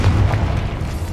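Confringo spell explosion in Hogwarts Legacy: a short, loud, dense burst with deep booming rumble that holds for about a second, close and full-bodied.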